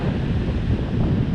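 Strong wind buffets the microphone on an open beach at sunset, a steady low roaring rumble with surf mixed in, continuous and loud throughout with no voices.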